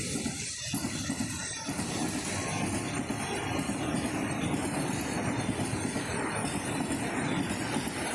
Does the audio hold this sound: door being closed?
no